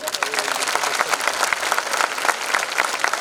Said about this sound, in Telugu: భాగ్యనగర్ గణేష్ ఉత్సవ సమితి వాళ్ళకి కొంచెం గట్టిగా చప్పట్లు కొట్టండి.